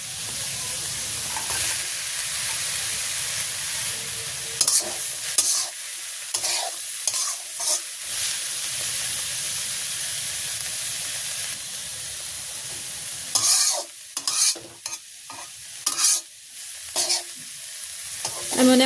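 Fish and tender young greens stir-frying in a pan in a village kitchen, a close, steady sizzle broken by repeated clattering stirs and scrapes, with no voices.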